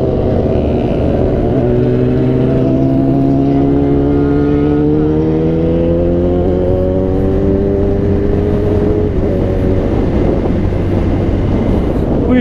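A Yamaha R6 or Kawasaki ZX sport motorcycle engine revs steadily and loudly, its pitch rising and falling slightly over a sustained drone that runs the whole length.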